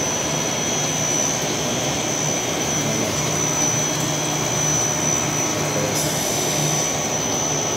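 A loud, steady mechanical whir of a running motor, droning continuously without pause, close and unbroken throughout.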